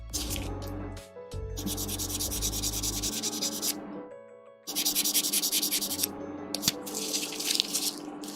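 X-Wing model kit being wet-sanded by hand with 1000 grit sandpaper: close, raspy scrubbing strokes in bursts with short pauses between, plus faint dripping and low background tones.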